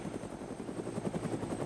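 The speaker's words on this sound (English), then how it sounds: "I'm gonna go ahead and go inside the helicopter though, because it's a lot easier to hear." Helicopter in the DayZ mod heard from inside the cabin, a steady rhythmic rotor chop over low engine drone, continuous and moderately loud with no talking.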